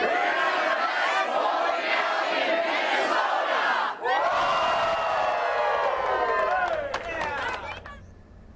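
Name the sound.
large crowd cheering and shouting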